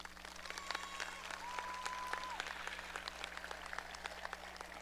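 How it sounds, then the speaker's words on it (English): Applause at the Parkersburg High School 2024 graduation: a large crowd's steady, fairly distant clapping in a big hall, sustained evenly over several seconds with a faint whistle and constant low hum beneath. "Please give them one more round of applause."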